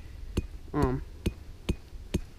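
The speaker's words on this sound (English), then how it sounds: "Don't want to hammer it too hard or else you'll break it." Sharp hammer strikes on wooden sticks while setting a raccoon trap, five separate knocks spaced about half a second apart with a short scraping rasp between the first two, close and fairly loud.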